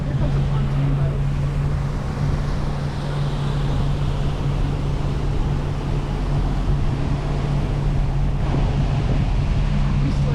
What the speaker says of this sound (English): here comes a pontoon boat